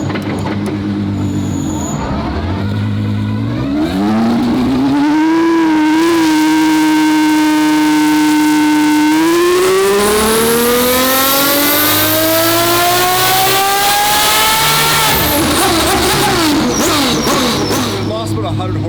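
Twin-turbo Ferrari F12 engine on a dyno, idling then climbing through a long loud rev with rising pitch, holding high, then dropping back, close and continuous.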